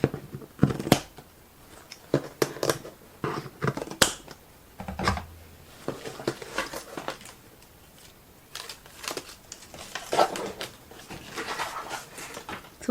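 Parcel package being opened up close, with scattered crisp tearing, crinkling and tape-pulling clicks in an irregular rhythm and quiet pauses between them.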